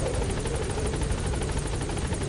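A helicopter in Metal Gear Solid V gives off a steady, throbbing rotor roar with a fast rhythmic chop. It is continuous and moderately loud, with no talking over it.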